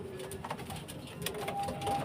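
A pet pigeon coos softly in low repeated throaty notes at close range during its recovery from illness, with faint background noise and no talk.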